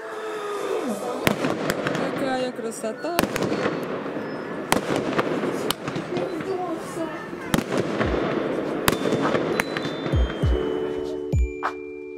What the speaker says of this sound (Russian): Ну там вообще такой салют.